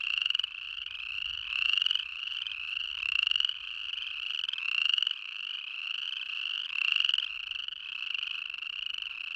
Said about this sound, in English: Sometimes the frogs will chorus from April all the way into July.